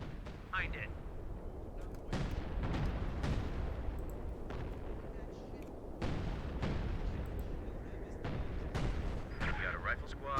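Artillery barrage in Company of Heroes 2: a dense, continuous rumble of distant shell impacts with sharp booms recurring every second or two, loud throughout, with faint battlefield voices mixed in.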